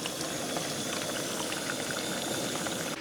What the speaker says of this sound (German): ich brate gerade Fische, die wir gestern im Supermarkt gekauft haben